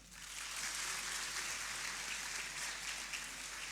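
Sustained applause from a festival audience welcoming the Chief Minister of Sindh at the opening session of the Pakistan Literature Festival, a steady, dense wash of clapping with no break.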